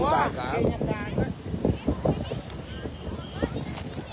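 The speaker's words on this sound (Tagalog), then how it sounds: "Lakas ng hangin." Wind blusters against the microphone with a steady rumble while people talk over it, outdoors near open water.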